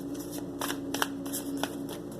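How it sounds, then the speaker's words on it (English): A tarot deck is shuffled quickly, with a run of crisp riffling card bursts under a steady low hum. "Give it a quick shuffle this time."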